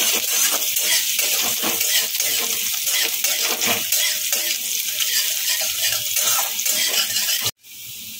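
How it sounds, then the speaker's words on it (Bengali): Chopped onion fries lightly in a pan with oil, giving a loud, continuous sizzle with spoon stirring and clinks until it cuts off abruptly near the end. "পেঁয়াজটাকে একটু হালকা করে করে নেবো, ভেজে নেবো।"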